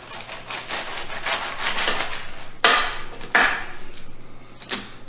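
Cabbage chopped thin for sauerkraut gives a steady run of crisp knife strokes against a board, with a few sharper, louder chops standing out near the end.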